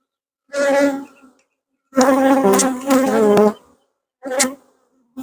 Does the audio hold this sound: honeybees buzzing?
yes